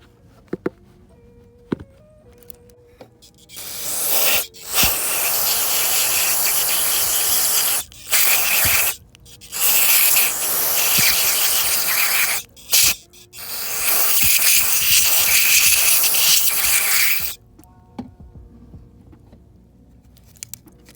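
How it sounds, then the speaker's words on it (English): Throttle body and idle sensor cleaner sprays onto a Hyundai/Kia idle sensor in loud, close bursts of hissing, several sprays of a few seconds each separated by short pauses. "Put our idle sensor face down so we can spray it down in there."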